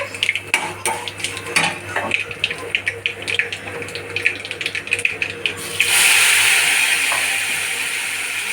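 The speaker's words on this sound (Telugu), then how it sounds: "తాలింపు కూడా వేగుతుంది" Tempering for dal (cumin, mustard seeds, garlic, dried red chillies, curry leaves and asafoetida) fries in a pan with steady sizzling and scraping stirs, near and busy, rising into a louder hiss near the end.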